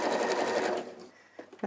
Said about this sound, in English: let's just pop this back onto the machine, and we're just going to continue that